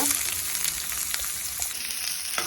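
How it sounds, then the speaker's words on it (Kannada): Onions fry in two tablespoons of oil in a pan, giving a continuous close crackling sizzle with light stirring noises and no talk. "ಇದು ಫ್ರೈ ಆಗಿ ಚೆನ್ನಾಗಿ ಗೋಲ್ಡನ್ ಕಲರ್ ಬರಲಿ."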